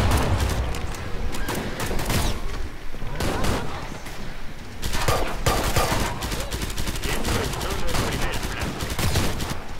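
Rapid bursts of video game gunfire in Killing Floor 2 crackle continuously, with dense volleys and a few louder shots, loud and close throughout.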